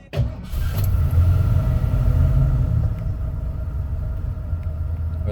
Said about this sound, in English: Unlike newer cars, you have to give it a little bit gas when starting, but like you saw, it started right up.